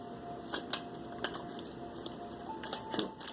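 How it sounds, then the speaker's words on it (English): Tarot cards being shuffled by hand, with a series of soft, irregular riffling snaps and taps over a faint background hum. "Let me give these a little shuffle."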